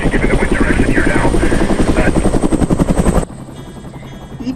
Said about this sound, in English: Each run begins and ends with a climb in and out of a helicopter.